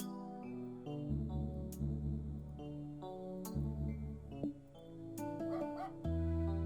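A dog in the video game Headliner: Novinews gives a few short yips and barks, then whimpers, heard up close over a steady musical background.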